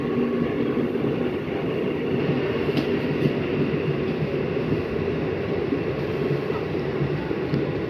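Trains passing at Khardaha railway station: a continuous loud, close rumble of rolling rail cars with a steady low roar and faint clatter throughout.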